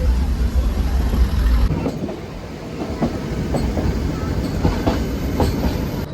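The Ooty mountain train rumbles along its rails, a loud close clickety-clack with rhythmic wheel knocks over a heavy low rumble that continues throughout.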